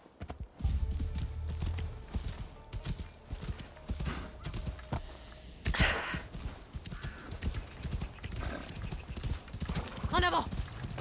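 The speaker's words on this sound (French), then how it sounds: "Accélère le cheval, non?" Steady clip-clop of hooves galloping in a fast rhythm in the video game Assassin's Creed Shadows, with a brief whinny near the end and people talking over it.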